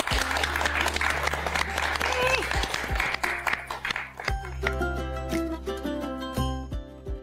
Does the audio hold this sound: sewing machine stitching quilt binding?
no